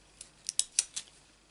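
Scissors snip through a strip of black gem embellishments for papercraft: about five quick, crisp cuts close by within a second, with no voices.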